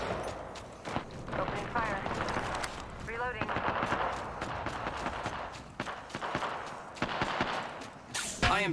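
Rapid bursts of video game gunfire, machine-gun and single shots crackling steadily through the clip, loud and close, with a player talking over the shooting.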